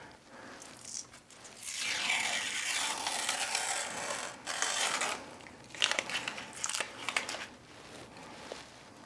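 Protective plastic film is peeled slowly off a clear plate used for measuring combustion chamber volume, crinkling and tearing loudly up close in long rustling pulls that give way to sharper crackles toward the end, with no talking.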